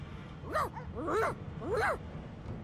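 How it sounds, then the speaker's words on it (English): A dog in the video game Divinity: Original Sin II whines in three rising-and-falling whimpers, evenly spaced and fairly close, over a low background hum. "The dog whines and continues pawing at its nose."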